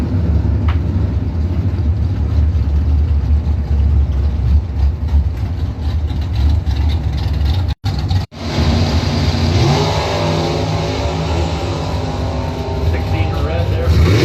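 Drag racing cars, including a dragster and an 88 Ford Thunderbird, rev and accelerate down the strip with loud engine roar that swells and fades, a brief dropout midway, under an announcer's voice.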